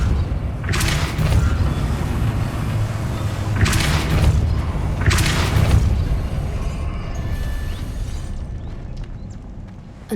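Depulso spell effect in Hogwarts Legacy: three forceful whooshing blasts spaced about two seconds apart over a steady low rumble, each bright and loud, then fading into quieter ambience.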